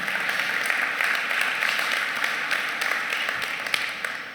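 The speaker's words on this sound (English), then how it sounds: "I think this is well worth a round of applause as well." Audience applause at the Laracon EU 2018 developer conference in Amsterdam, a sustained wash of many hands clapping at moderate level, heard from within the hall.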